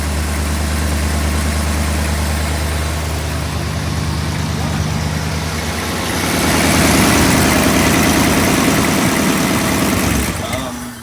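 A 1956 Ford Thunderbird engine idling close by after a new fuel pump is fitted, a steady low rumble that swells slightly in loudness partway through before cutting off near the end.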